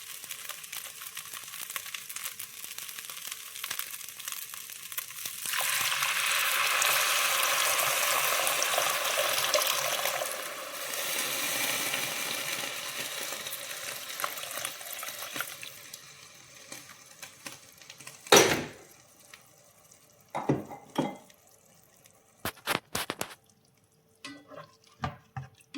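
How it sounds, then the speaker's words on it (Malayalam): Water poured into a pot of lightly fried rice for biryani, a sustained rushing pour for several seconds that fades into scattered clinks and scrapes of the pot. "വറുത്ത് കഴിഞ്ഞാൽ പിന്നെ നമുക്ക് വെള്ളം ഒഴിക്കാം."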